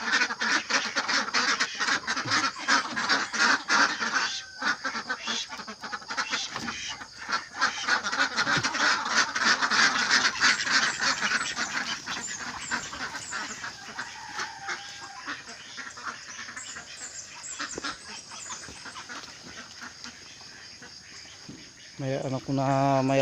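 A flock of ducks being herded through a rice paddy quacks constantly in a dense, noisy chorus, loud and close at first and thinning slightly later, with a person talking over them at times.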